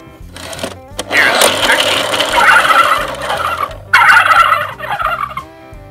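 A turkey gobble plays from a Fisher-Price See 'n Say The Farmer Says toy, a loud rattling burst that repeats after a short pause, with a faint mechanical hum underneath.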